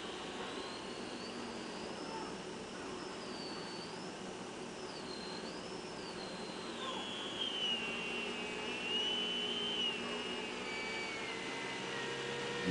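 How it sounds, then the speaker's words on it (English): Fan motor driven by a 150 amp PWM controller, a continuous airy whir with a faint whine that slowly rises and falls in pitch as the speed changes, steady and fairly quiet. "this particular fan, of course, as you increase the frequency, the motor speed actually slows down."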